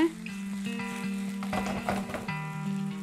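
Eggplant sizzles in oil in a pan while Armenian dolma is cooked, a soft crackling fry with occasional stirring bursts, partly under sustained tonal background music.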